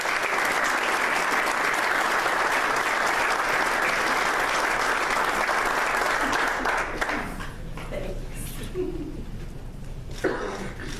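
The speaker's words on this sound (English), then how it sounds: "how about a big round of applause for Ms. Christina Wilson." Loud, sustained applause from an audience at a Hall of Fame induction ceremony, dense clapping that fills most of the clip before thinning out near the end, with a few stray claps and murmurs.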